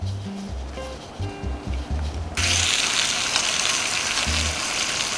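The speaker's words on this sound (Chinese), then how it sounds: "咁個薯仔已經煎好啦" Thin potato slices frying in beef fat left in a steak pan, a soft crackle at first, then a bright, dense sizzle swelling up and holding steady nearby.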